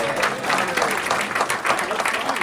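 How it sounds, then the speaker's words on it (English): Audience at a Rotary club meeting in Coronado applauds for a birthday, a dense, steady patter of many hands clapping close by for the whole stretch, with no talk over it. "So let's all give him a round of applause."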